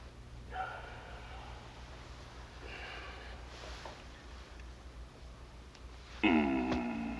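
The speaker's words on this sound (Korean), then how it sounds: "개 짖는 소리" A dog gives a few short, scattered barks and yips at a distance, then one louder bark close by near the end.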